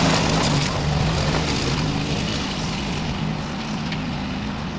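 A go-kart's 7 horsepower Subaru small engine drones steadily nearby with a constant rough hum, running at an even pace.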